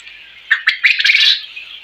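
Quails on a quail farm give bright, chirping calls in a quick cluster of short notes, fairly close and clear over a quiet background.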